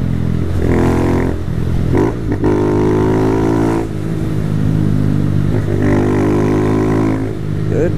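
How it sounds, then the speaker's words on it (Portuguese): A mini Toyota Hilux SW4 motorcycle-engine build runs loud and close, its tone rising and falling as it revs repeatedly, with a steady rumble underneath throughout. "A moto tá parando, viu?"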